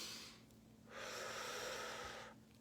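One slow, deep breath drawn in close to the microphone, a soft airy rush that swells, holds for over a second and fades, set against a quiet room.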